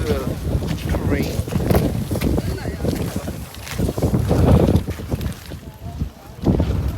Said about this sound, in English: Quite windy here in Iceland today, 40-mile-per-hour gusts